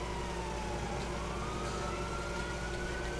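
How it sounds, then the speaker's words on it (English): Ambulance siren in GTA IV, a steady wailing tone that slowly rises over a constant low engine and traffic rumble, heard at moderate distance with no talking. "Oh my god, another ambulance."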